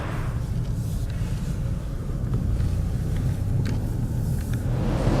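A car driving through central London, heard from inside as a constant low road rumble and tyre roar with faint traffic noise, steady and fairly loud throughout.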